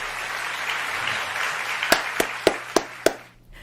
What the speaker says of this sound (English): Adding my applause to the standing ovation there